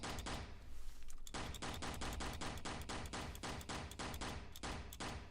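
Gunfire in the video game Aeroboticar: Uprising: a rapid, evenly spaced stream of loud, sharp shots that runs almost without a break, with one short pause near the start.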